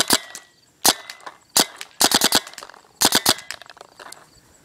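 GoG eXTCy toy blaster firing in double-shot mode: sharp, loud cracks, a single shot, then another, then a quick rapid burst, another burst, and a last softer pop, with nobody talking.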